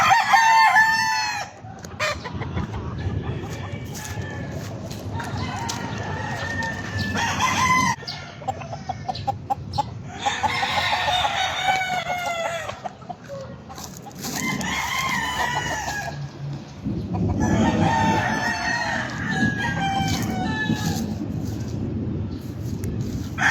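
Many early-bird gamecock roosters, about sixty birds, crow in repeated overlapping rounds at a game-fowl farm, with clucking between calls, some near and some farther off.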